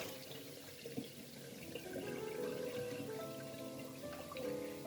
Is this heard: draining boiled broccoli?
yes